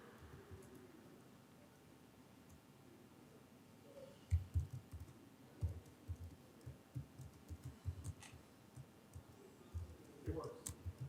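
Someone types on a computer keyboard in quick, faint clusters of clicks, quiet at first and then steady through the latter half, with talking nearby.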